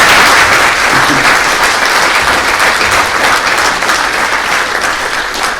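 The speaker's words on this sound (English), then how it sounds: "Let's give her a round of applause." An audience at a school board meeting gives a loud, continuous round of applause, many hands clapping close by with no break for over five seconds.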